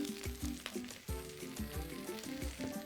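Chopped green parts of leeks sizzle quietly in a frying pan, a low, faint hiss under a soft background of repeating tonal sounds.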